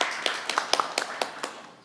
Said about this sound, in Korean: 박수 부탁드리고요